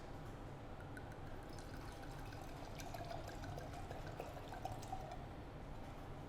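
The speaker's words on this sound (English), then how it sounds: "I would like a moment of silence to wait the pouring of Apparita 2017" Apparita 2017 red wine pouring into a glass, a faint, steady liquid stream running for several seconds with no talking over it.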